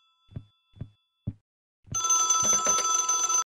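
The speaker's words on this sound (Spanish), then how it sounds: "Y suena el teléfono." Old-style telephone bell ringing in the horror game I'm On Observation Duty 3, preceded by four soft thudding knocks or footsteps, then a loud sustained metallic jangling ring that carries on to the end, close and alone without talk.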